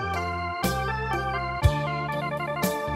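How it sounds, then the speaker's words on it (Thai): Yamaha PSR-550 arranger keyboard playing its organ voice: sustained organ chords and melody notes over a steady bass and light rhythm accompaniment, clear and even in level, with no voices. "เสียงออแกนครับ"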